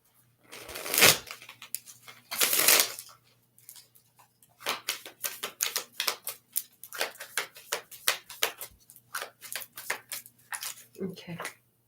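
Playing cards shuffled by hand for a card reading: two longer riffling bursts, then a run of quick, crisp snapping and flicking sounds in an uneven rhythm, close and fairly loud.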